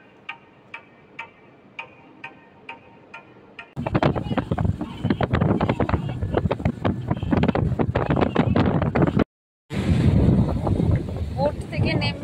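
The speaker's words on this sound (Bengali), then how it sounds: "আমরা আবার স্পিড বোটে করে রওনা দিলাম আমাদের নেক্সট ডেস্টিনেশন কোরাল আইল্যান্ডের" Speedboat running out to Coral Island off Pattaya, opening with a few rhythmic ticks, then loud wind-buffeted engine and water roar close to the microphone, cut by a brief dropout before the rushing noise returns.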